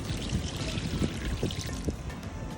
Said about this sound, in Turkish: Önce bu havuzları boşaltalım.